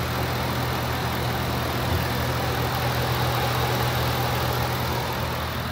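A 2010 Ford Expedition's 5.7 liter Triton V8 idles under the open hood, giving a steady, even low rumble close up with no change in pitch.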